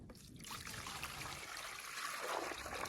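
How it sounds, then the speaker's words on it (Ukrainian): Water trickles and splashes steadily into a chicken drinker, a thin continuous pour heard up close and fairly quiet. "І наливаємо курочкам водички."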